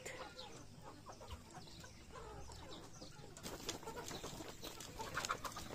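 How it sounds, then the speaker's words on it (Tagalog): Five-month-old upgraded native chickens cluck and chatter in a busy, uneven stream, growing livelier partway through, with soft farmyard background noise. "Ayan yung ating 5 months old na mga manok."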